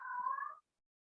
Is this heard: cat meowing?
yes